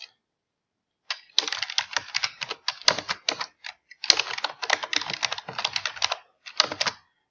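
Fast clattering keystrokes on a computer keyboard come in dense bursts after a second of silence, close and crisp, with brief pauses and a few sharper key hits.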